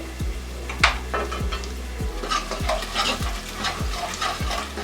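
Chili powder stirred into frying garlic for sambar, a spoon scraping the pan in a steady, repeated rhythm over a constant close sizzle, with small clinks between strokes.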